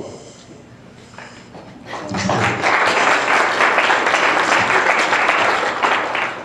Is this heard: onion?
no